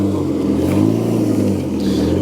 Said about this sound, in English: off goes the Mark VI Escort